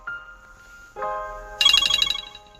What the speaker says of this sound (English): vehicle cuts out, and the phone's going to ring